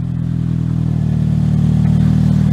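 A 2017 Subaru BRZ Limited Performance Package with a 6-speed manual revs from idle, a deep, steady engine drone that climbs slightly in pitch and loudness over a few seconds.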